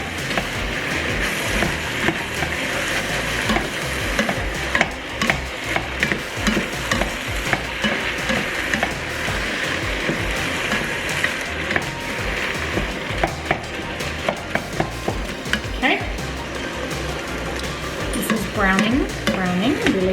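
Ground turkey browns in a pot for creamy taco soup, sizzling steadily under repeated scraping and stirring strokes from a spoon, close and busy throughout.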